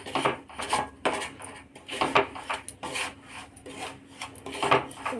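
Semolina (rava) dry-roasting in a pan for rava kesari, a steady gritty rasping as a spoon stirs and scrapes repeatedly through the grains, close and continuous with rhythmic strokes, no voices.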